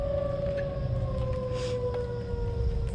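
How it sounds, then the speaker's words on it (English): Tornado warning sirens wail at night near an RV park, a steady sustained tone holding through the clip over a low rumbling background, with no talk. "now the sirens"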